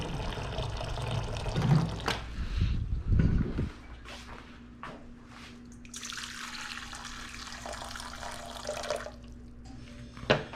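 Really hot water is poured into a container for flour tortilla dough: a gurgling splash early on, then a quieter, steady stream filling the vessel, with clattering kitchen handling between and no talking.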